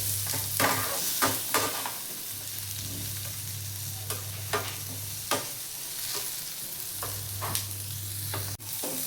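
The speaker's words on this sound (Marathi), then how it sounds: "आता टोमॅटो चांगलं भाजून घेऊया ह्याच्यामध्ये" Tomato fries in a pan with onion and grated coconut for chole bhaji. A steady sizzle runs close by, broken by repeated scraping stirs of a spoon against the pan and a low hum in the background.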